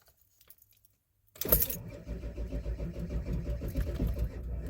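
A 2001 Ford F-250 with the 7.3 Powerstroke diesel cranks after silence, then settles into a steady, loud, close rumble with a rattly, clattering texture; no talk.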